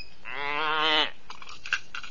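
A little goat gives one clear, wavering bleat lasting about a second, near and fairly loud, followed by faint rustling.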